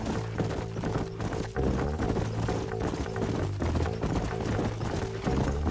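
Horse hooves galloping in the Western video game Red Dead Redemption, several horses pounding in a fast continuous clip-clop rhythm, loud and close, with a musical score underneath.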